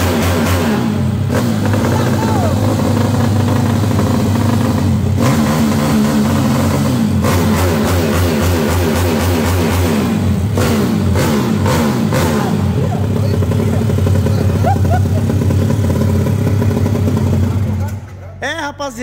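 A modified Mercedes 190 engine revs repeatedly, rising and falling in loud bursts, with mechanical clatter and some talk underneath before it cuts off.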